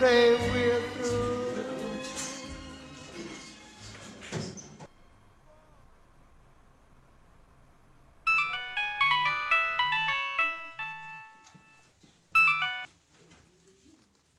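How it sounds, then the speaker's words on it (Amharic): A phone ringtone plays a melodic electronic tune in two bursts, rings out unanswered after a pause, near and clear, with faint background music and a brief voice before it. "አዎ ይጠራል ግን አይነሳም።"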